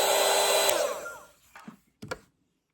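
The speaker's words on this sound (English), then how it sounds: "I also have right here my dryer. I like to use this to speed up the process between layers." A hair dryer blows loudly and steadily while drying layers of watercolor paint, then winds down and is switched off with a couple of brief clicks.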